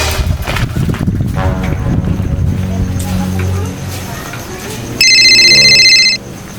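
A telephone rings once in a loud electronic burst, following a stretch of voices and background noise.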